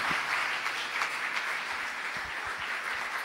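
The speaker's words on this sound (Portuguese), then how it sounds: "Vamos recebê-la aplaudindo a Jesus com muita alegria e com muito carinho." A church congregation applauds in a sustained, even wash of clapping, moderately loud and diffuse, with a few low thumps near the end.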